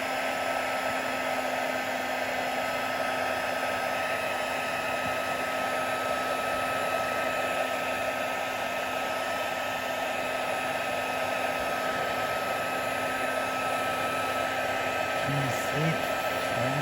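A heat gun blows steadily while embossing powder is melted onto a second 1-inch wire circle dangle, a continuous close whooshing roar throughout, with faint voice at the end.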